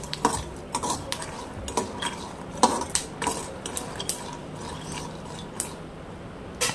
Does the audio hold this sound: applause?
no